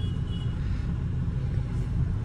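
A Mahindra Scorpio N 4x4 drives along with a low, steady engine and road rumble, moderately loud and unbroken, with no voices.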